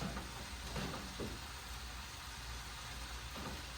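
Mushrooms sizzling in a pan for stroganoff, a faint steady frying hiss with a few soft stirring bumps, no voices.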